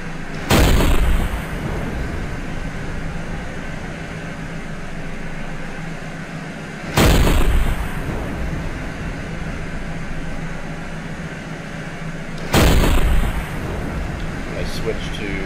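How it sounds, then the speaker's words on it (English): A submarine deck gun fires armor-piercing shells in a naval video game: three loud, sharp blasts spaced about six seconds apart, each followed by a lingering rumble over steady background noise. "It really does help to shoot armor piercing right at the waterline."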